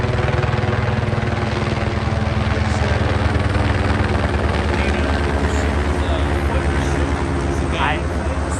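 A police helicopter's loud, steady rotor thump and engine drone fill the air over a pursuit ending in Orange County, California, while a person talks beneath the continuous noise.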